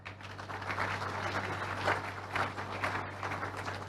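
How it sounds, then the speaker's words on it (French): Audience applause at a ceremony as a moderator is called up to the stage, a dense, steady wash of many hands clapping throughout, over a low constant hum. "Maître Eugénie Yuma, qui va pouvoir me rejoindre à l'estrade, sous vos applaudissements"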